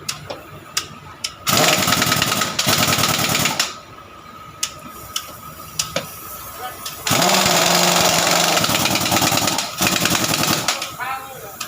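Loud, rapid metal hammering straightening a bent part during repairs on a D559 in a workshop, in several sustained bursts, separated by short pauses with a few isolated sharp knocks; a voice speaks faintly underneath.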